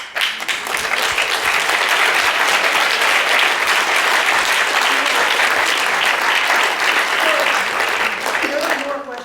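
Sustained applause from a lecture audience after a talk on cultivating flavor, a dense, steady wash of many hands clapping that holds loud for about nine seconds before beginning to thin at the end.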